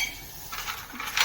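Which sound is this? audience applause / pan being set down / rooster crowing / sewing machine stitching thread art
pan being set down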